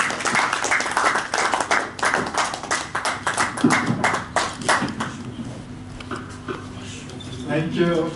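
Scattered clapping from a small audience at a product launch event, loose and uneven, fading out toward the end.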